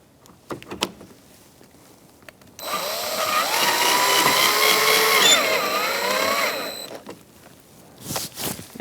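A cordless power drill drives screws into a 2004-2009 Mazda 3 windshield washer reservoir, whirring for about four seconds with pitch dipping under load, framed by scattered handling clicks and knocks.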